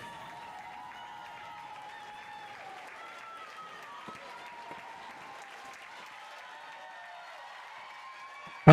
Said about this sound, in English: The crowd is excited, cheering her in as she comes to finish here.